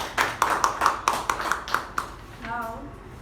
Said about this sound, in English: So a huge round of applause to both Sai Snehal and DTM U Bhat